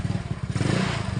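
A Yamaha Mio 125 scooter that had sat unused for a long time and has a discharged battery, its engine catching and idling with a rapid, throbbing low pulse, close by and brief.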